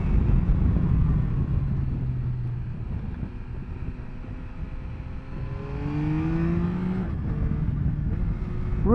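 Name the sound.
Yamaha Tracer 9 GT motorcycle engine revving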